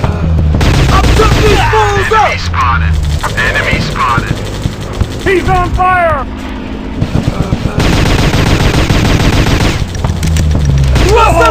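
Rapid gunfire in a mobile gun shooter game on Android and iOS, with loud, dense bursts of automatic shots and booms running almost continuously under excited voice lines and game announcer callouts.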